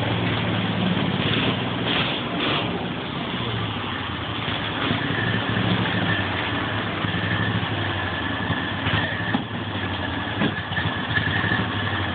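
A repaired car engine idling steadily, a continuous low rumbling drone heard close and fairly loud without breaks or talk.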